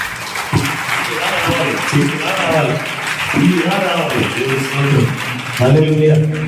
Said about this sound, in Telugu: చప్పట్లు గట్టిగా కొట్టి చెప్పండి